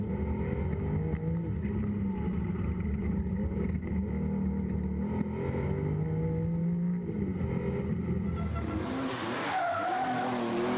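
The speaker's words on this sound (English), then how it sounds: "Very spectacular driving style there for Droogmans." A rally car on a stage of the Legend Boucles de Spa 2012 gives a steady, loud engine roar with shifting revs and tire noise that continues for the whole stretch and swells further near the end.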